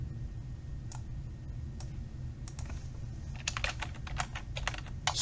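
Keys on a computer keyboard are tapped while filling in registration form fields, starting as scattered single clicks and building into a quicker, denser run of typing over a low steady hum.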